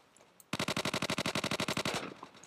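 Rapid automatic gunfire in the Roblox game Neighborhood War, a single loud burst of about twenty evenly spaced shots lasting around a second and a half, then a brief tail.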